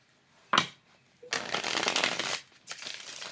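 A brief card snap followed by a long riffle of standard-cardstock tarot cards being shuffled, then a shorter second riffle, close and crisp with no talking.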